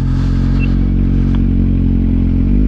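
A motorcycle on a touring trip in the Podhale region idles close by with a loud, steady low rumble that holds throughout, with a light mechanical clatter on top.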